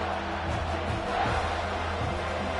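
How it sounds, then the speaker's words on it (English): Alabama Crimson Tide home crowd roaring on third down in a packed football stadium against Michigan, a steady dense wall of distant cheering and shouting with no break. "The Tide crowd rolling noise down on the Saban field on 3rd down."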